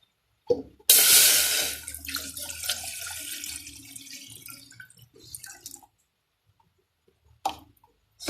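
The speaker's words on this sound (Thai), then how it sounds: "ใส่น้ำลงไปในหม้อครับ" Water pours into a cooking pot on a gas stove for a Thai curry, a close splashing gush that starts abruptly, thins to a trickle and stops, followed by a couple of faint clinks.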